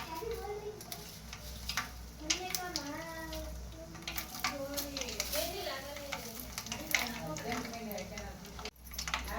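Dry curry leaves sizzle and crackle in hot oil for a North Karnataka garlic chutney, a soft continuous frying hiss with sharp pops, heard under a voice talking throughout.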